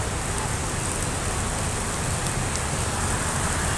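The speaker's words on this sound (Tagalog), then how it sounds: "bumagsak na talaga yung ulan" Heavy rain falls steadily during a city walk in Davao City amid underground cabling work, a dense, even hiss of downpour with no breaks and no voices.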